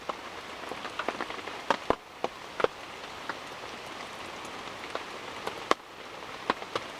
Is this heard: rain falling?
yes